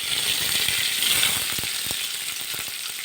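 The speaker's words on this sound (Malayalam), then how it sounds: "നമുക്കിനി ഉള്ളിയും കറിവേപ്പിലയും വെളുത്തുള്ളിയും ഇടാം" Onions, curry leaves and garlic dropped into hot oil after mustard seeds have popped produce a steady, dense sizzle with scattered crackles, continuous and fairly loud throughout.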